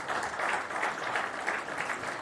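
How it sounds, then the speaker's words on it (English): A seated workshop audience on transit-oriented development breaks into dense applause to welcome a speaker to the dais, a continuous hiss of many hands for a brief burst. "Please give him a big round of applause."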